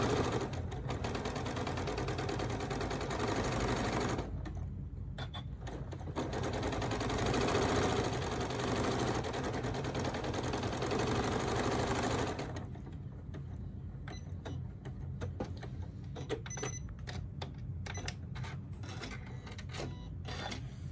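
Sewing machine stitching a fabric pocket for an advent calendar, a steady close mechanical whir for several seconds, a pause, another long run, then scattered short clicks and taps as it stops.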